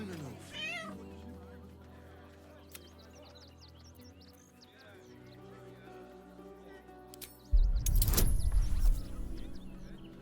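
A cat meows in Baldur's Gate 3, a short rising call at the start followed by quieter ambience and a sudden loud burst of noise near the end.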